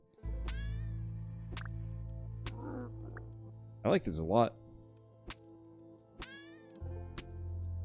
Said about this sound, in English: I'm just hearing sad cat noises